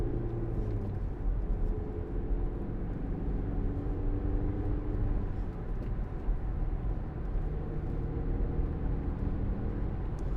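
A 2015 Audi Q5 2.0 TDI diesel S line quattro accelerates on the road, its engine drone heard from inside as a steady, low rumble with rising tonal sweeps and constant road noise.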